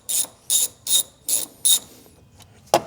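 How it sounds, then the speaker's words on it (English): Ratchet wrench working loose T50 Torx bolts inside a BMW, five evenly spaced rasping bursts of clicks at close range, then a pause and one final sharp burst, no talking. "there's going to be two T50 torque bits, and we're going to unbolt these."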